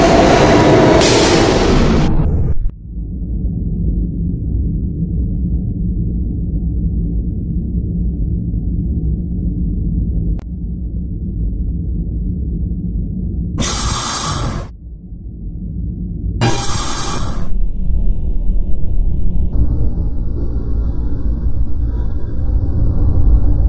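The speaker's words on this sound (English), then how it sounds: "This is a Westpotat bound D train." An R160B subway train on the D line rumbles and screeches loudly up close as it arrives at 51st Street station, then settles into a low steady hum, with two sharp hissing bursts and a brief chime near the end.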